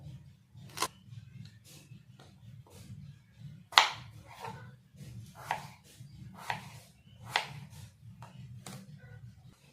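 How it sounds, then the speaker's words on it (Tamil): Drumstick (moringa) pods being cut with a knife make a series of crisp, separate chopping snaps at an uneven pace. The cuts are close and clear over a low steady hum. "இப்போ முருங்கைக்காய் கட் பண்ணிக்கலாம்"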